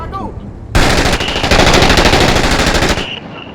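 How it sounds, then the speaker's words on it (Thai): A loud, rapid burst of machine gun fire in the video game Six Days in Fallujah rattles continuously for over two seconds, then cuts off abruptly, leaving a brief ringing tone. "ยิงปืนกลดี"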